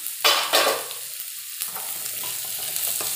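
Sliced onions for a beef-and-vegetable dish fry in a hot pan, a bright steady sizzle broken by a couple of scraping stirs near the start, then settling into an even crackle with no one talking.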